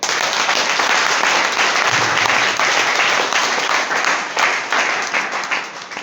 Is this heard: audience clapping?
yes